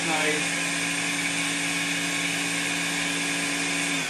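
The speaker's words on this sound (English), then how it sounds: "Just get it to blend" A blender blends hummus with a steady, close, whirring motor drone that holds constant and loud the whole time, with no talking.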